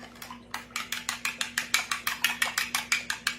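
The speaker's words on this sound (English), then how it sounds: "You stir that up." Pork chop casserole being stirred in a pan, with a spoon scraping and knocking against the pan in a quick, regular series of about twenty close, crisp strokes over a low steady hum.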